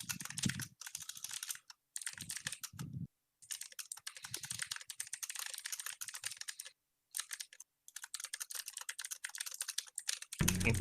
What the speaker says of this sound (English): Intense type. Aggressive typing.